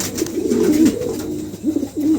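Pigeons offered for sale coo close and loud in a few soft, throaty rolling phrases, with a short pause between them.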